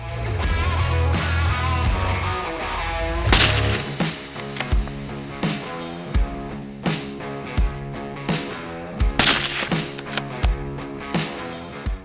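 Music plays throughout while several sharp, loud sniper rifle shots crack out at irregular intervals, standing out over the steady backing.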